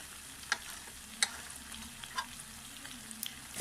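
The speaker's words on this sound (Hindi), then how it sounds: "इसे हिला लिया अच्छे तरीके से।" Tomato masala with ginger garlic paste fries quietly in a pan, a soft steady sizzle marked by a few separate clinks and scrapes of a stirring spoon.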